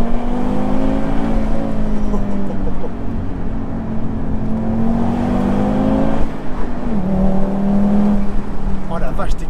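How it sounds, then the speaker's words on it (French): Turbocharged engine of an Audi TT RS cabriolet with manual gearbox, 340 hp, pulling hard under acceleration, a steady loud drone rising and dipping with gear changes, heard from inside the open car. "La sonorité du turbo, c'est dingue"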